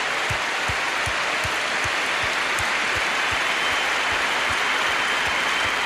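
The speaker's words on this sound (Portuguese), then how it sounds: "Vamos aplaudir mesmo?" Audience applause at a Christian church congress in 2006, a dense steady wash of clapping that continues loudly throughout with no pause.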